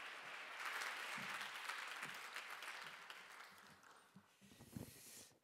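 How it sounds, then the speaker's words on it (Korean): Sustained applause from a chapel congregation at a Methodist theological seminary welcomes a visiting pastor. It is steady and fairly soft, thinning toward the end with a few scattered louder claps. "우리 박수로 환영하겠습니다."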